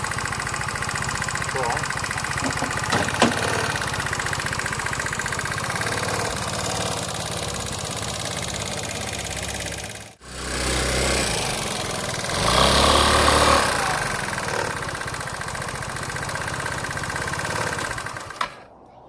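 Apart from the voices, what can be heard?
motorbike engine idling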